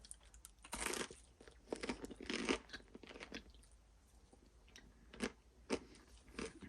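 Loud crunchy bites into a crisp sourdough bread crust, followed by several bursts of chewing, close up with no talking.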